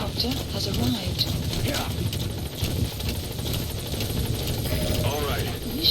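A support helicopter arrives in Metal Gear Solid V, its rotor chopping steadily and loudly throughout, with voices talking over the engine noise.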